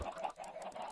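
Minecraft chickens clucking in a video game, a steady run of soft, close clucks with no pauses and no speech over them.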